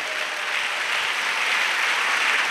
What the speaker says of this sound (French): Acclamons Jésus. Let's clap for Jesus.